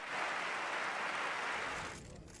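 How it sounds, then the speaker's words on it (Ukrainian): Members of the German Bundestag give a standing ovation: thick, continuous applause fills the chamber for about two seconds, then thins out. "У Бундестазі новину зустріли оваціями стоячи."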